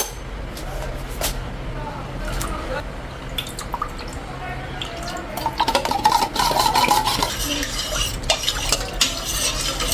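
A spoon stirs mango ice candy mixture with condensed creamer in a bowl, making close, uneven scraping and clinking that gets busier and louder partway through, with a voice talking at times.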